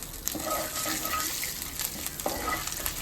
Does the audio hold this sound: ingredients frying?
yes